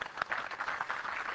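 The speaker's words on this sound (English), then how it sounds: "clap for them" A conference audience applauds briefly, a dense, even burst of many hands clapping that holds steady for just over a second.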